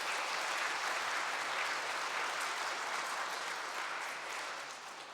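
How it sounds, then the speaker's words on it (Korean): Sustained applause from an audience after a priest's evening lecture on prayer during a confirmation catechism class, dense and steady at moderate distance, thinning slightly toward the end. "신부님께 다시 한번 큰 박수 부탁드립니다"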